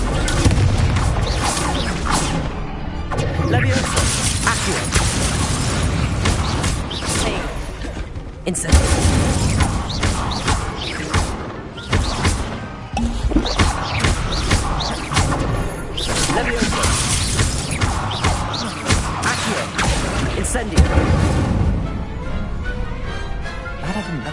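Confringo, an explosive fire spell in Hogwarts Legacy, cast during a tournament duel: loud booming blasts and shattering crashes over dense game music and effects, with voices heard amid the battle.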